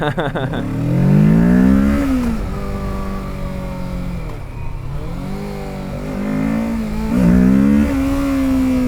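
A 2024 Kawasaki Ninja 650 motorcycle engine revs hard and accelerates up close, its pitch climbing, dropping between shifts and climbing again, loud and steady with no talk over it.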